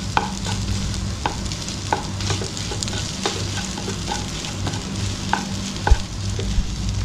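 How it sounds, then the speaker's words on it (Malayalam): An egg and potato kabab mixture is stirred and mashed, giving soft scraping sounds punctuated by scattered sharp clicks and taps over a steady low background hum, with no talking. "ഇത് നന്നായി ഒന്ന് മിക്സ് ചെയ്തെടുക്കണം"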